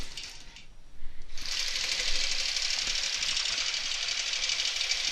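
A computerized quilting machine running an edge-to-edge pattern, stitching steadily and loudly after a brief quieter stretch at the start, a continuous rapid mechanical whir with no talk.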